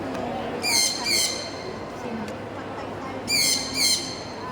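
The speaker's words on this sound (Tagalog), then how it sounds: "Ingay ng ibon." Two pairs of sharp, high-pitched bird calls ring out over a steady background murmur, each burst brief and repeated, with a quiet pause between pairs.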